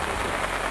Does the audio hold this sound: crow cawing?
no